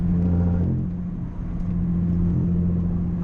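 A Nissan 350Z with test pipes gives a loud, deep exhaust drone that dips briefly and then swells back, heard up close from inside the car.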